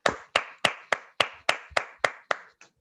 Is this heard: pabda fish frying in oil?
no